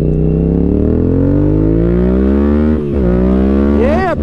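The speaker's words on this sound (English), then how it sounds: "feel that torque on that MT-07" A Yamaha MT-07 motorcycle revs hard close by, its engine note climbing steadily in pitch for several seconds. It dips briefly, then surges up again in a loud, continuous roar.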